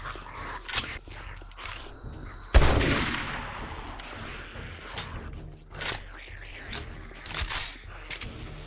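Shotgun blasts in the survival game 7 Days to Die: a loud, sharp boom near the middle stands out, followed by several scattered, fainter shots and clatter across the stretch.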